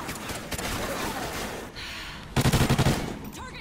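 Gunfire in the Call of Duty Ghosts video game during a Team Deathmatch round: a sustained noisy stretch of shots, then a sharp rapid burst of automatic fire near the end.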